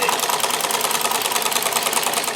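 A Necchi Supernova sewing machine with an industrial straight-stitch buttonholer stitches a long buttonhole bar tack, a loud, steady, rapid mechanical whirring and clatter running continuously and close up without talk.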